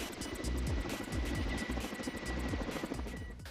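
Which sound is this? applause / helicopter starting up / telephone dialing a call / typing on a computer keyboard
helicopter starting up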